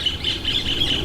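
A bird gives repeated high, squawking chirps, close and fairly loud, in a short burst.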